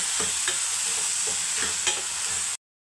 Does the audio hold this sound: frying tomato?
yes